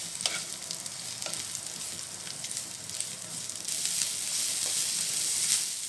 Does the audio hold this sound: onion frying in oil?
yes